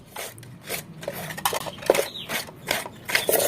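A knife slices a tomato lengthwise on a board, giving a series of close, soft rasping and rubbing strokes in quick, uneven succession.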